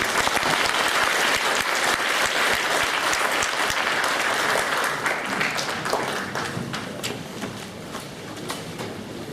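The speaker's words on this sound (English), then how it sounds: "I will ask you to join me in giving applause to our distinguished panelists" Sustained audience applause fills a conference hall after a policy panel on Taiwan, a dense steady wash of many hands clapping that thins slightly toward the end.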